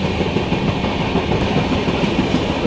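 Poorva Express passenger train rolling toward New Delhi from Howrah, a steady continuous rumble with faint wheel clatter throughout, moderately loud and unbroken, no voices.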